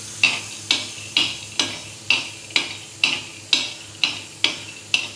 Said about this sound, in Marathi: आता हे शेंगदाणे मी भाजून घेते।